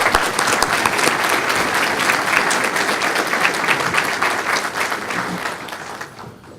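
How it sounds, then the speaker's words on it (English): A large audience at a Huntsville, Texas State of the City event applauds a legislative director, dense steady clapping that holds strong before tapering off at the end, with no talk over it. "let's give him a round of applause"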